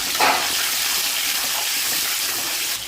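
Cumin seeds hitting hot oil give a steady, close hiss and sizzle that holds at the same level throughout, with a brief louder crackle at the start.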